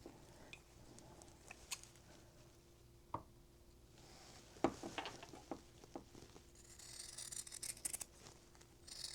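Scissors snip through quilt fabric for a charity quilt block, giving scattered short crisp cuts and soft rustling close by, a little busier toward the end, with no talking.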